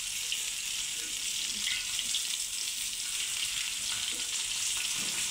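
Bajra-paste-coated pieces frying in hot oil, a steady, dense sizzle that holds evenly throughout with faint bubbling pops, close and alone without talk.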